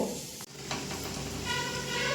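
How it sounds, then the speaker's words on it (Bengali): Potatoes fry in a pan with a steady, moderately loud sizzle and hiss that dips briefly as they are stirred, then swells again. "দেখুন আলু তো ভাজা হচ্ছে"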